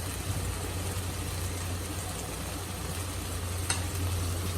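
Masala frying in a pan after chilli powder and salt go in, a steady close sizzle running evenly throughout with a low hum underneath and one brief clink near the end.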